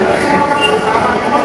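Dhaka metro rail train in motion, a loud steady rumble and hiss of the carriage with faint tonal whine, heard from inside with a voice partly audible beneath it.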